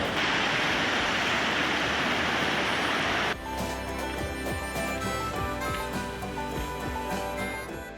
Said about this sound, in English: A sturdy footbridge crosses lower Weminuche Creek as it cascades down from above.